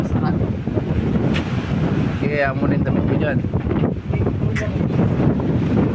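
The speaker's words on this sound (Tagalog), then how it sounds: "Lakas ng hangin kasi may paparating na bagyo." Strong wind ahead of an approaching typhoon buffets the microphone in a steady roar, with a person talking over it throughout.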